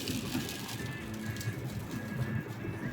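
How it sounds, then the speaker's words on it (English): Steady rain falling on the car during a long cross-country drive, a constant broadband hiss with scattered drop patter, moderately quiet and continuous with no talking. "unfortunately the rain has started"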